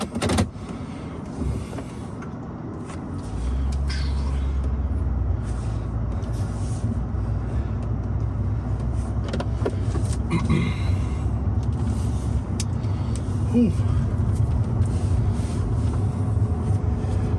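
A 2001 Mercedes-Benz SL 500 R129 roadster with a V8 on a test drive: a steady low engine rumble fills the cabin, settling into a heavier, constant drone from about three seconds in, with road noise throughout.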